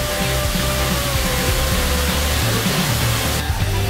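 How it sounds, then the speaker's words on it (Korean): Waterfall on Mireuksan mountain in Tongyeong, Korea, giving a loud, continuous rushing roar with no voices, steady from start to finish. "또 폭포가 또 자리하고 있습니다."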